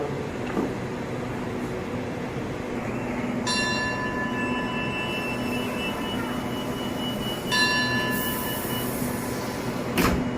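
A Thai railway scene at Hua Hin station as Hitachi locomotive 4518 stands with the Thaksinarath special express from Bangkok to Hat Yai. Two ringing, bell-like warning tones sound over a steady low rumble of idling rail machinery, with a few clanks.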